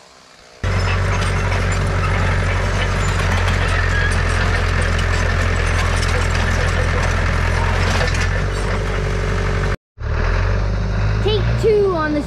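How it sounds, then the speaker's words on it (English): A small Willys Jeep's engine runs loud and steady nearby, a constant low rumble that cuts out for a moment and then resumes, with voices heard over it near the end. "It's a little Willys Jeep."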